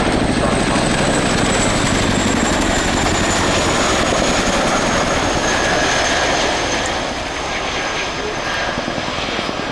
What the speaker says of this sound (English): We know the best noise in the world is that bit of blade sound